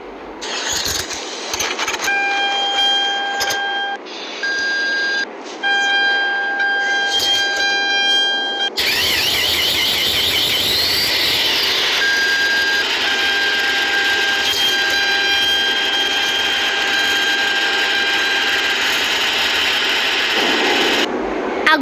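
A van with a 4.0 flex engine, in a snowy setting, gives several electronic chime tones before it starts abruptly, then runs loud and steady close by with no talking.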